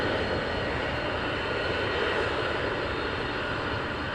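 F-15 fighter jets departing RAF Lakenheath produce a continuous, loud, broadband engine roar that holds steady throughout with no pauses or voices.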